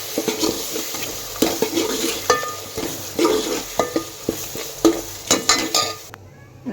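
Spoon stirring dal in a pot after salt and lemon juice are added, for dal bati, with repeated scraping and clinking strokes over a soft simmering sizzle, close and fairly loud, ending abruptly.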